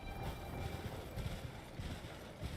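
Horse hooves gallop in the Elden Ring video game, a fast, steady run of muffled thuds rolling along at low volume with no talk over it.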